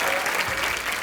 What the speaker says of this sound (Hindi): अर्जुन रामपाल और विद्या बालन के लिए जोरदार तालियां।